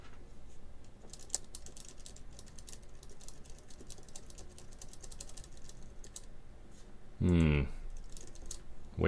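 Rapid clicking keystrokes on a White Fox computer keyboard being built, steady close typing with a brief louder burst of voice near the end.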